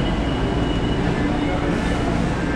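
An LRT Line 1 train pulls out of Tayuman Station with a steady, loud rumble and broadband rolling noise that holds throughout.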